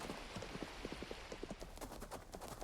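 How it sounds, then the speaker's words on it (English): Horse hooves in the video game Coral Island, a quick run of light, even clip-clop steps trotting steadily and fairly close over a faint background hiss. "I got a purple horsey."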